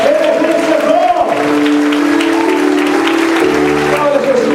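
A church congregation applauding during a Portuguese-language Easter sermon, loud sustained clapping from many hands under a preacher's amplified voice and sustained musical tones.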